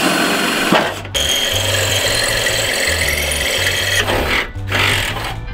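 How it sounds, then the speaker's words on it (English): A power drill with a long bit bores through the metal body of a Subaru BRZ / Toyota 86 for widebody kit hardware, a close, loud whirring grind interrupted by a few short pauses. "get a long drill bit like this, and just drill right through"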